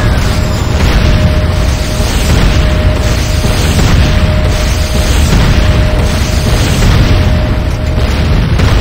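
Loud, continuous rumbling explosions roll on without pause as a GDI tower is destroyed in the game Renegade (Command & Conquer), a dense wall of deep booms and crackling blasts from a battle.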